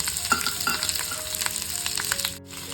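Peanuts and chopped onion frying in a pan give a busy, fairly loud crackling sizzle with spatula scrapes and stirring knocks, steady and close, dipping briefly near the end.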